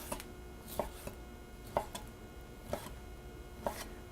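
A sharp knife cuts thin slices from semi-frozen lamb on a board, about seven crisp, distinct chops spaced roughly every half second, close and clean with no talking.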